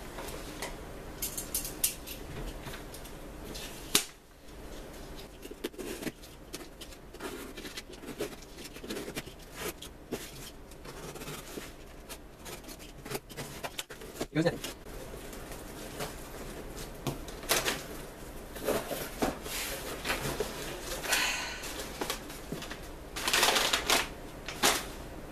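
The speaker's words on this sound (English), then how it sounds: "time to open this package up, address from the Miki Sudo, and see what's inside" A mailed package is torn and opened by hand, with crinkly rustling, tearing and scattered clicks and taps of cardboard and paper close by, irregular throughout with no speech.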